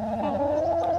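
Backyard chickens cluck nearby in a short burst of steady, throaty calls, clear and close with no talking.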